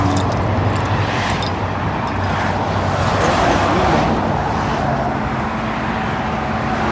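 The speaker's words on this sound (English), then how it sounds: "Keys." Keys jangle briefly at the roadside beside a Dodge Challenger Scat Pack 392, a light metallic rattle set against steady, loud traffic noise from passing cars.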